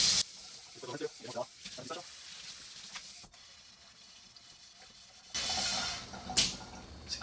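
An oily pan is scrubbed with a Scrub Daddy sponge under running water, with bursts of close rubbing and splashing, a quieter pause in the middle, then a louder rush of tap water near the end.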